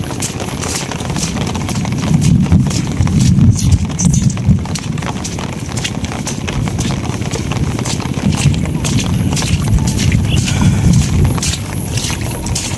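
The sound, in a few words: cow being led along, hoof steps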